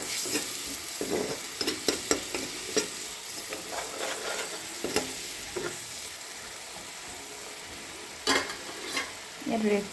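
Jackfruit curry frying with a little red chilli in a pan, a soft continuous sizzle punctuated by irregular scraping stirs of a spoon, some sharp and close, others lighter.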